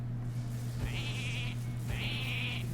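Two comic sheep bleats from the Hearthstone card game, each a wavering cry about a second long with a short gap between, heard over a steady low hum and background noise.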